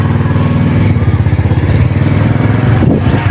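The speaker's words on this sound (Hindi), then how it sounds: "आज बाइक पे ही जा रहे हैं" A motorbike engine runs steadily with a throbbing low rumble and rhythmic pulsing as it rides close by, loud and continuous throughout.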